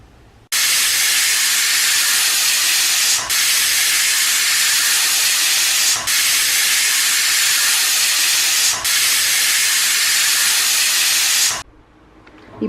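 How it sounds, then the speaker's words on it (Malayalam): A pressure cooker of tomatoes on a medium flame whistles loudly, letting out a long, steady hiss of steam that runs almost without a break, with brief dips about every three seconds, then stops near the end. "മീഡിയം ഫ്ലെയിമിൽ 4 വിസിലാണ് ഈ ടൊമാറ്റോ വേവാൻ നമ്മൾ കൊടുക്കുന്നത്."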